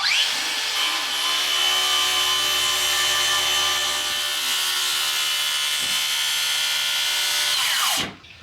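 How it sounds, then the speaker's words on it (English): An oscillating multi-tool cuts the ends of deck boards with a continuous, high buzzing whine that holds for about eight seconds before stopping, close and loud, with no talk. "multi-tool the ends and find out if it worked"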